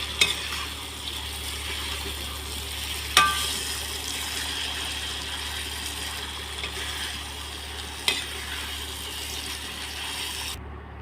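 Vegetables sizzle in a pan while being stirred, a continuous soft frying hiss with a couple of sharp scraping knocks from the spoon, heard close with no talking.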